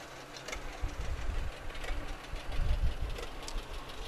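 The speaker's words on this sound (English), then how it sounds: "Then we have Andy Lindauer with the 1951 A John Deere." A 1951 John Deere A tractor running in a parade, its engine a low, uneven knocking putter heard at moderate distance amid outdoor crowd noise.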